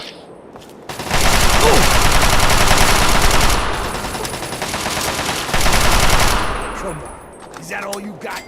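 Sustained automatic gunfire in Fallout 3 roars in two long, loud bursts with a short lull between them, close and dense, with a brief spoken word near the start.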